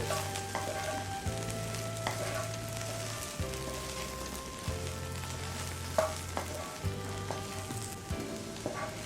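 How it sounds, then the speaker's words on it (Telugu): Okra fries with ground spice powder in a pan, a steady close sizzle with soft stirring scrapes and occasional clinks, under a low droning hum and without talk. "గ్రైండ్ చేసి పెట్టుకున్న పౌడర్ వేసి బాగా కలిపి స్పైసెస్ అంతా పచ్చివాసన పోయే వరకు ఫ్రై చేయాలి"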